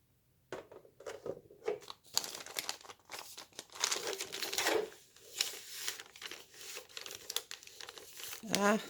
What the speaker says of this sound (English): Now we're going to trim that off.